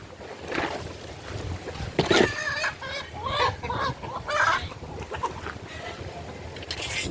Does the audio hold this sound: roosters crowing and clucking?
yes